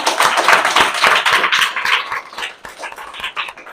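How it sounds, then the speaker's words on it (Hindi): Students at a school drama performance about child rights and child abuse burst into loud, close applause, a thick, irregular patter of many hands clapping throughout, with no talking over it. "इस पर जोरदार ताली बताइए।"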